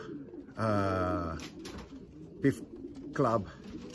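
Pigeon coos ring out, a long close coo and then a shorter one, while someone speaks briefly at the first racing pigeon's arrival from a 72-mile race.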